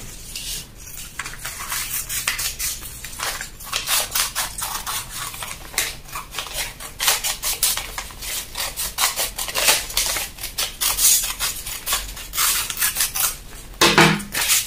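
Scissors cut fabric for an off-shoulder sleeve pattern in a run of repeated crisp snips and rasping strokes, fairly close and steady, with brief pauses between cuts.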